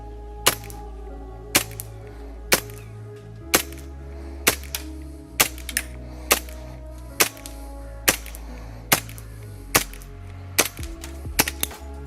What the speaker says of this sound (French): Test du tir du Samurai Edge WE.